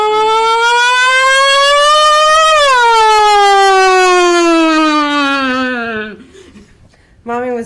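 A voice imitates a wailing siren, one long loud tone that swells, bends and slowly falls before fading out, followed by a brief soft vocal sound.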